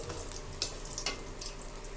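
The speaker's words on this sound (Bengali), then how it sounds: "দেখো বড়িটা লাল লাল ভাজা হয়ে গেছে" Lentil dumplings (bori) fry in hot oil with a steady, quiet sizzle broken by a few sharper crackles and pops.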